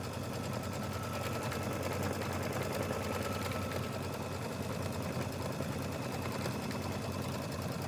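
An embroidery machine stitches two applique flowers, a steady, fast mechanical rattling hum that runs without a break, close and even throughout.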